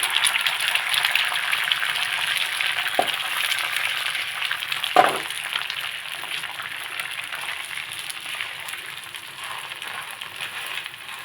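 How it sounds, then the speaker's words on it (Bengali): Beaten egg poured into a hot pan for an egg chicken roll sizzles and fries steadily, a constant bright hiss with a couple of brief clinks near the start. "ফেটিয়ে নেওয়া ডিমটা আবার দিয়ে দেবো।"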